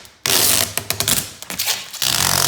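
Protective film being peeled off a black surface during a home renovation, a loud close crackling tear with bursts of sharp rapid snaps, a brief lull, then a steady ripping rasp.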